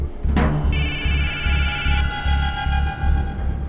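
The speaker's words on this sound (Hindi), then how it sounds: "एक दिन फोन आ रहा है, सुनीता का फोन है।" An electronic phone ring plays as an incoming call arrives in an Indian crime drama, a steady trilling tone repeating over a pulsing low background beat, loud and alone with no talk.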